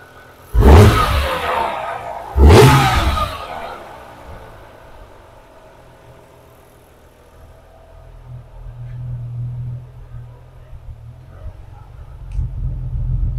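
A BMW E36 M3 engine is revved twice in quick sharp bursts, then settles into a low, uneven idle rumble that swells slightly toward the end.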